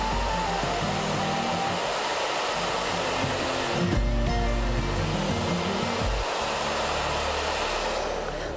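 A hair dryer blows steadily and loudly up close for several seconds, drying egg-carton petals for a craft decoration, its airy roar continuous with only a slight shift midway.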